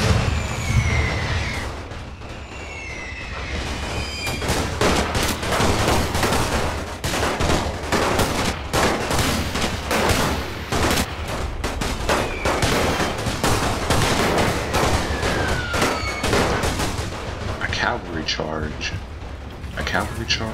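Tanks firing in a World War 1 mod of Napoleon Total War, German male and female tanks opening up in a dense, continuous barrage of overlapping gunfire and booms under steady speech.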